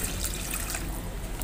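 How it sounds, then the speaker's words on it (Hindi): Water is poured into a pan of pea and potato curry with boiled peas and potatoes, a continuous close splashing trickle lasting a moment and heard alone. "अब यहीं भी डाल देंगे इसमें पानी, ज़्यादा नहीं डालेंगे"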